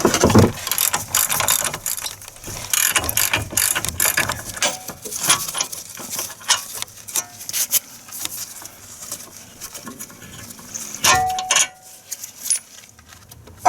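A ratchet works on 18 mm caliper bracket bolts of a Chevy Equinox front brake, with bursts of rapid metallic clicking, clanks and tool jangling that come and go in uneven spurts, close and loud.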